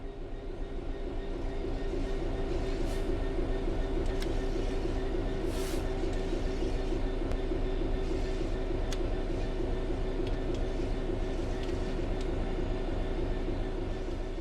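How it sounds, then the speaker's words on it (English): A train in the game Train Sim World 3 coasts on level ground with the throttle closed, giving a steady low rumble and hum with a constant mid-pitched drone and faint periodic clicks, unbroken and alone throughout. "The train will then coast on level ground, and the train will only slow down very gradually."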